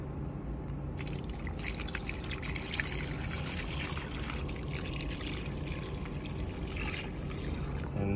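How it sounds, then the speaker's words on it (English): Cooled brine is poured over fish in a steady, continuous trickle and splash that runs for several seconds at moderate loudness, with no talking over it. "The brine has cooled off, and so I'm going to pour this"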